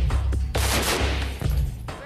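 Soldiers fire weapons in a rapid burst inside a training shoot house, the close, loud gunfire dense and continuous across most of the moment, with brief gaps and a low rumble beneath.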